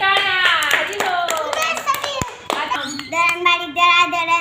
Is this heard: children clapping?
yes